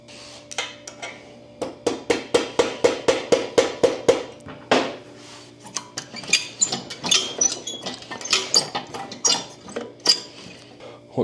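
Rapid metallic hammer blows on Harley-Davidson Sportster motorcycle parts ring out in a quick steady series, then continue in more irregular clanks and taps, close and sharp.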